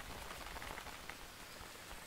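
Rain falls steadily in the jungle survival game Green Hell, a quiet, even hiss of many drops striking surfaces, with no voices.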